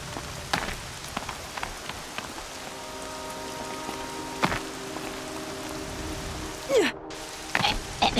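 Rain falls steadily in the Horizon Zero Dawn game world, a soft continuous patter with scattered sharper drops and a few brief game sound effects layered over it.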